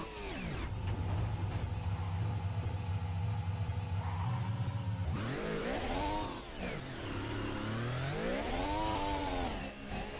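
Race car engine in a racing video game at Silverstone, loud and continuous, holding a steady drone before climbing and falling in pitch through gear changes and throttle swells, with no talk over it.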